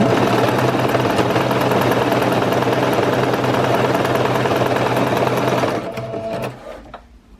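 A sewing machine running a zigzag stitch at its maximum width of 6, a loud, steady mechanical whir with rapid needle ticking that slows and winds down to a stop near the end.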